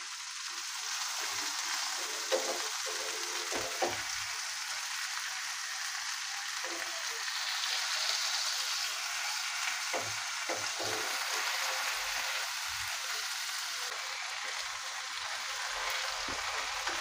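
Rohu fish fries steadily in hot oil in a pan, a continuous close sizzle with a few soft scrapes and bumps as the fillet is flipped over.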